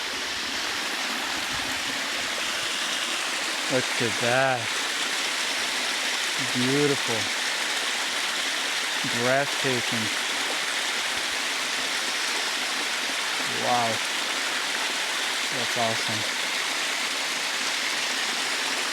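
Water runs down a hidden jungle waterfall in Puerto Vallarta, a steady broadband rush beneath short exclaiming voices that come and go across the scene.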